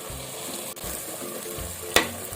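Mint and coriander fry in oil for dum biryani, with a continuous close sizzle and one sharp spatula scrape near the end.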